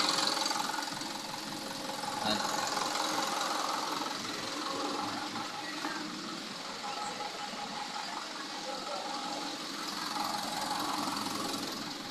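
A Fuso Canter truck's 4P10 diesel engine running after being restarted, a steady mid-pitched idle drone with a faint knocking rhythm, continuous and fairly close throughout.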